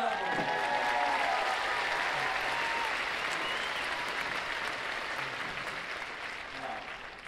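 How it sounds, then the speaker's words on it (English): Concert audience applauding in a large hall at a show in Moscow's Crocus City Hall, dense loud clapping mixed with crowd noise that gradually fades toward the end. "Give a round of applause."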